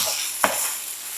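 Stir-frying in a pan over lowered heat, with a steady hiss of sizzling and one short scrape of a utensil across the pan partway through.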